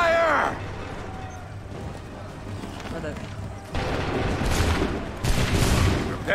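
Musket volleys crash out in Assassin's Creed 3 as massed soldiers fire on command: two loud, ragged bursts of shots stand out over battle noise, with shouted voices throughout.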